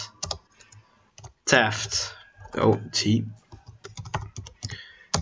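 Computer keyboard keys clatter in quick bursts of typing, close and crisp, with someone talking over and between the keystrokes.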